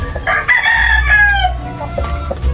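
A rooster crows one long, loud call close by among a small breeding flock of three hens to one cock, with short clucks before and after the crow.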